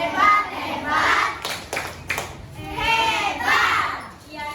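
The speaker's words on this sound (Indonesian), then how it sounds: "beri tepuk tangan lagi buat kelompok 2" Schoolchildren in a classroom clap in rhythmic bursts, applauding a student group close by, with children's voices mixed in.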